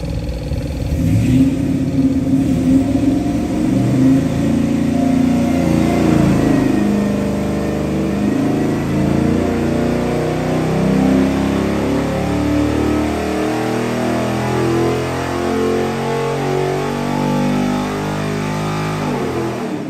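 A 441-cubic-inch LS performance engine rated at 700 horsepower revs hard and close, its loud, sustained roar climbing and falling through repeated throttle blips with no voices.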